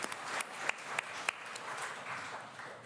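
Quiet conference applause, a soft scattering of clapping from a modest audience with a few sharper individual claps standing out early, thinning toward the end.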